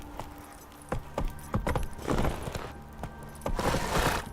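Horse hooves in The Witcher 3 video game strike in uneven clusters of sharp clopping beats, growing denser and louder toward the end, with a low steady hum underneath.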